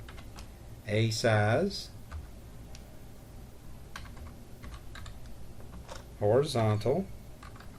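Quick, light clicking of a computer keyboard runs through the clip as someone types, close and fairly quiet, with someone speaking in two short bursts.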